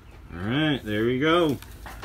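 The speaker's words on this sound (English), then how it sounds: "There's our goats." A goat bleats nearby in a few drawn-out, wavering calls, then falls quiet.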